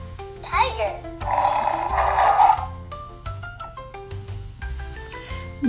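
A voice imitates a tiger's roar, delivering one drawn-out growling roar near the start amid playful children's music, followed by more sung melody.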